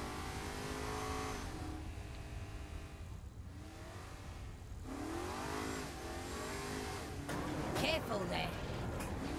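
Car engine in Saints Row 4 revving and accelerating steadily, pitch rising and falling through gear shifts, a continuous close drone with a louder surge near the end.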